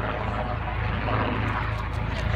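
A low, steady rotor-like drone of an aircraft passing overhead, continuous throughout with a broad rumbling wash of engine noise.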